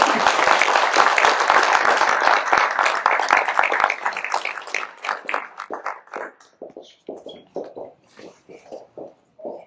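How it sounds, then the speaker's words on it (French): An audience at a mayor's New Year greetings event applauds with loud, dense clapping that gradually thins into scattered individual claps toward the end. "On peut les applaudir."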